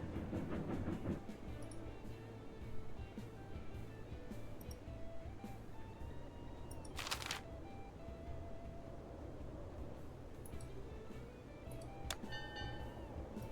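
Locomotive running in the railroad video game Railroad Corporation 2, a continuous faint rumble and clatter of rolling wagons with a brief bright hiss or whistle partway through, no voices.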